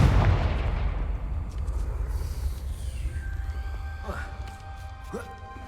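Confringo blast spell cast in Hogwarts Legacy, a heavy booming impact that rolls into a rumbling explosion and crackling debris, loud and close, with a voice speaking over the opening.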